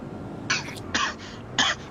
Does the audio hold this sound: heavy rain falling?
no